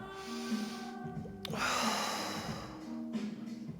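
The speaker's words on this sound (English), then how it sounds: "Take a full breath in" During a mat Pilates side stretch, a single deep inhale rushes in through the nose over soft background music, swelling for about a second before easing away.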